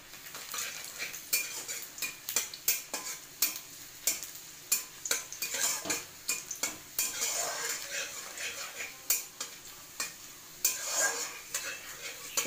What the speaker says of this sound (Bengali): রসুন দিয়ে নাড়িয়ে চাড়িয়ে নেব।